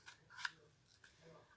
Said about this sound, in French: L'idée, ça va être de venir avec une paire de ciseaux, faire 2 petites encoches comme ça.